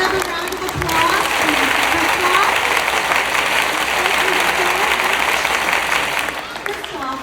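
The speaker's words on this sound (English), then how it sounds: "Let's give another round of applause" An audience at a youth keynote event breaks into sustained applause, a dense, loud wash of clapping that holds for several seconds before tapering off at the end.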